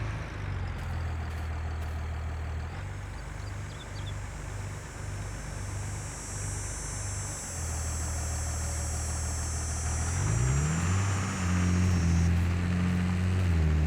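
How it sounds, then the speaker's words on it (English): A tractor engine in the video game Farming Simulator 22 drones steadily at a low idle-like pitch, with a high whine above it, then revs up and rises in pitch near the end, loud and continuous with no talk. "Tractor's digging in nice."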